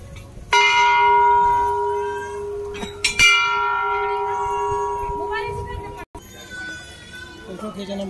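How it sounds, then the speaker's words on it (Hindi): A temple bell at the Maihar Devi shrine is struck about two or three times. Each bright metallic clang rings out with a long, slowly fading sustain over a murmuring crowd of devotees. "घंटी बजा रही हैं, थोड़ा तो कस के बजाओ।"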